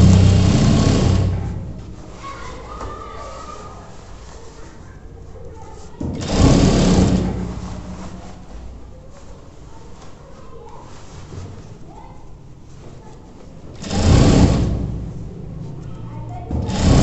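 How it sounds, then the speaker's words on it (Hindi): Sewing machine stitching the seat seam of a pair of trousers, running in three short loud bursts with quieter handling between them. "अब सेम इसी प्रकार से उसको भी सिलाई करेंगे"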